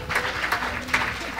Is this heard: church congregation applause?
yes